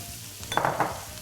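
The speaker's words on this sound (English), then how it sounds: "Now just stir fry these, mixing it together really well so that the flavor of the ginger and garlic mixes really well with the veggies." Carrot, green capsicum and other vegetables stir-fried with ginger and garlic in a pan, giving a brief close burst of sizzling and stirring scrapes over a low steady background hiss.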